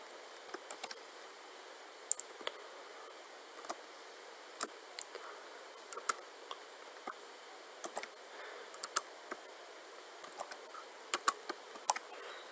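Computer keyboard keys tapped while writing JavaScript code, a quiet, sparse pattern of light clicks arriving singly and in small bursts across the stretch, with no talking.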